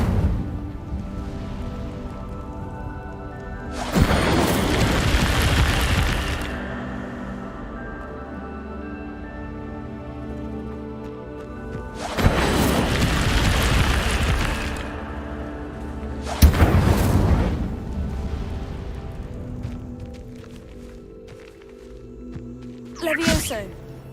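The Incendio fire spell blasts in a wizarding game, three bursts of roaring, crackling fire, each lasting a few seconds and loud against a quieter background, with a voice speaking in between.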